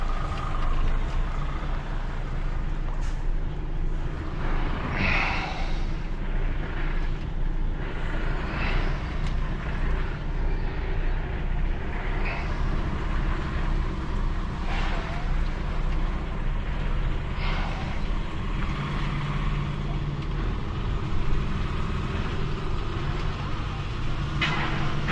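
A tractor unit is lifted steadily from the rear by a heavy recovery vehicle's rear linkage, producing a continuous loud diesel engine drone and mechanical rumble throughout, with no pauses.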